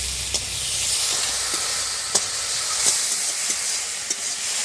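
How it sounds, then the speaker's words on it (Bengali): Shrimp fry in hot mustard oil in a wok with a steady close hiss and sizzle, broken by a few soft clicks and stirring taps, with no talking. "এখন চিংড়ি মাছগুলো খুব সুন্দর করে ভেজে নেব।"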